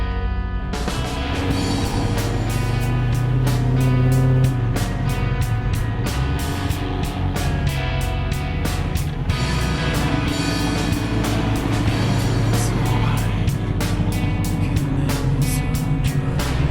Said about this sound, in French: on prend déjà un très grand plaisir à rouler sur le couple en étant bercé par les envoûtants borborigmes du V8